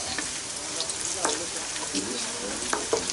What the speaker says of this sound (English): There's a little bit more bacon. I don't want to cook the bacon all the way.